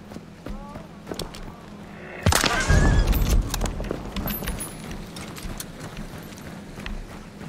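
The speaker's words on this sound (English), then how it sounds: "That was the horse I heard, I guess, from prison." A sudden crash and rumble followed by horse hoofbeats clopping along at a steady pace, with game-like ambient noise and a brief bright chime, from the video game Hunt: Showdown.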